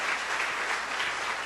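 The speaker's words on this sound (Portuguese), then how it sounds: "Você pode aplaudir a Ele?" Church congregation clapping in a continuous, even wash of applause, close and full for a brief moment with no voices over it.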